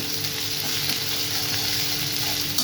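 Onion frying with ginger-garlic paste in a pan for a spicy prawn curry, a continuous close sizzle with light stirring scrapes, steady and alone without talk.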